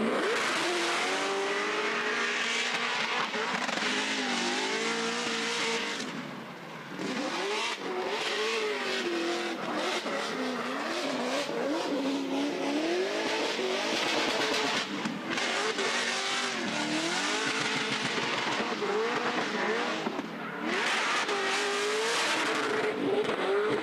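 A drift car at Formula Drift Atlanta's ProSpec round roars continuously, its engine revving up and down with tires squealing through a long, loud run.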